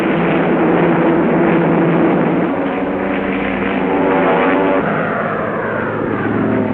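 Typhoon and Spitfire fighter planes of the RCAF in 1944, strafing German ground targets: a loud, steady propeller engine roar that drones continuously throughout, with a slight shift in pitch midway, and no voices.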